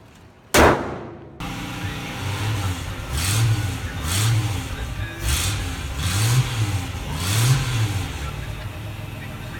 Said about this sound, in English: Gotta love that 6-cylinder power